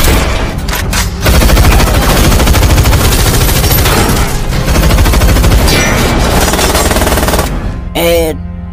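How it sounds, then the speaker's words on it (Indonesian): Dense machine-gun fire from a film scene roars almost continuously for several seconds, loud and close, with heavy rattling bursts that break off near the end. "bulat telah menembak Patrick dari belakang sehingga semuanya telah aman terkendali"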